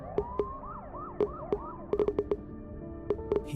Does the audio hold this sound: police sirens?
yes